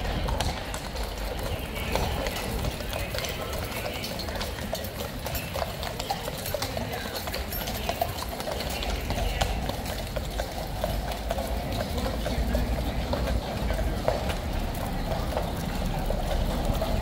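A line of horses, including a massive one at the back, clip-clops along a paved road in a continuous steady patter, under a dense outdoor background.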